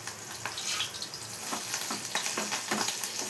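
A handful of washed curry leaves hits hot oil in a pan for sorakaya pachadi, giving a steady close sizzle and fry crackle with soft stirring scrapes throughout.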